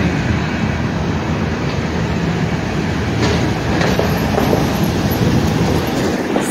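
A train passes through historic Jonesborough, a constant loud rumble of rolling wheels and rail noise with faint clacks, steady throughout and heard nearby with no talk.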